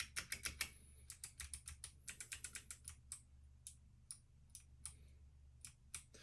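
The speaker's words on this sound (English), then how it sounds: "Okay, let's just see a sound test quickly. So this is the Ducky 12 SF with the Kale box whites." Typing on a Ducky One 2 SF keyboard fitted with Kailh Box White clicky switches, crisp rapid clicks in quick flurries that thin out into scattered single keystrokes, close and clear with no talking.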